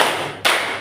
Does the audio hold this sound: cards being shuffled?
no